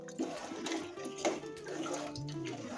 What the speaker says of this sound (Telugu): ఒక 2 గ్లాసుల వాటర్ యాడ్ చేసుకున్న తర్వాత